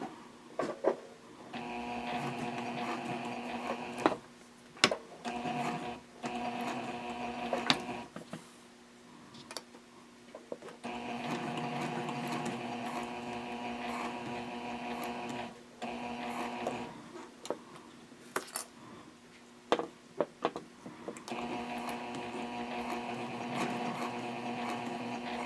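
Domestic sewing machine stitching slowly along a previous seam line of a sling bag at a 3.0 stitch length, running in three sustained motor-driven bursts with short pauses and brief clicks between them.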